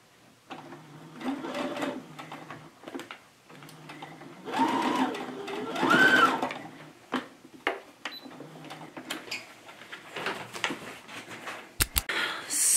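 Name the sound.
sewing machine stitching cloth doll pieces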